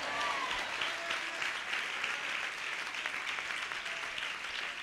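An audience claps continuously for about five seconds during a shield presentation, producing a steady, even wash of applause.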